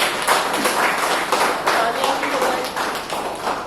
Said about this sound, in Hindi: जोरदार तालियां बजाइए अपने लिए।